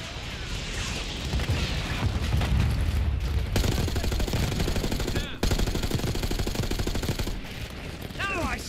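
Minigun fire in the Black Ops 6 campaign roars as continuous rapid bursts, loud and dense, with brief cuts between volleys and a rising whine near the end.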